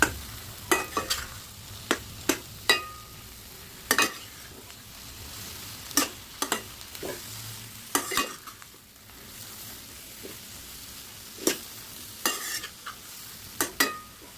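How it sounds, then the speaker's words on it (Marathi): Mushrooms are stir-fried in a spiced tempering for mushroom bhaji over a low, steady sizzle. A spoon scrapes and taps the pan in frequent sharp clinks, and nobody speaks. "मशरूम फोडणीमध्ये परतून घेऊया।"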